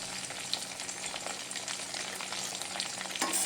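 Pieces of raw banana with salt and turmeric fry in a pan, giving a continuous soft sizzle with occasional stirring scrapes, fairly quiet and close, with nobody speaking.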